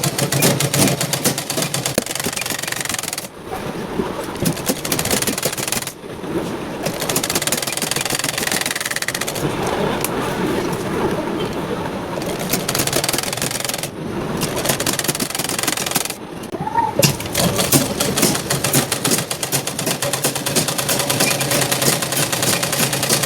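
Sewing machine stitching seams on a dress, a steady continuous whirring motor hum with brief pauses between runs, loud and close with no voices.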